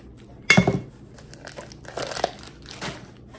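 Packaging of a Funko Soda Scooby-Doo can being ripped open, with a sharp tearing crinkle at the start followed by several softer rustling, crumpling bursts close by.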